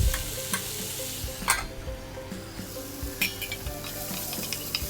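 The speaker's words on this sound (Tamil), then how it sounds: "ரெண்டும் சேர்ந்து தக்காளியோட பச்சை வாசனை போகிற வரைக்கும் நல்லா வதக்கி எடுத்துக்கணும்" Tomatoes sautéing in a pan for kadai paneer, a constant close sizzle broken by repeated scraping and clinking as a spoon stirs, with no one talking.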